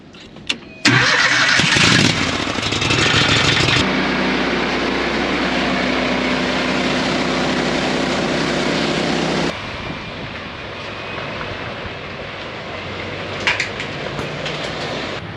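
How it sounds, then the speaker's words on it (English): A gasoline engine on a grain conveyor cranks briefly, catches with a loud roar and settles into a steady, rough idle as it warms up, dropping to a lower, quieter run partway through, with a few clanks near the end. "So I'll get the conveyor warmed up"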